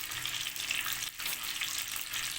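Melted ghee sizzling steadily in a pan at the start of a restaurant-style chicken korma, a dense continuous crackle and hiss with no voices over it.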